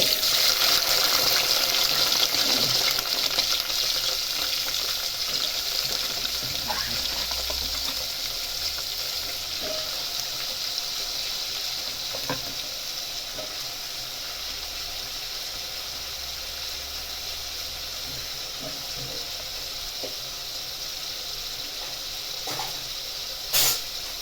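Cut bitter gourd fries in a couple of spoonfuls of hot oil. A steady, hissing sizzle runs throughout, loud at first and easing slightly, with occasional faint stirring clinks.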